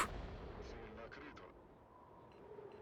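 A tank's main gun fires once in a Winter War tank game, a sharp boom that rolls into a fading rumble with a few distant thuds afterward, all at low level.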